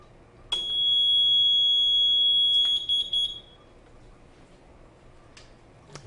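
A fire alarm control panel in a double interlock preaction sprinkler system sounds a steady electronic alarm tone for about three seconds, loud and close, then cuts off leaving quiet room noise.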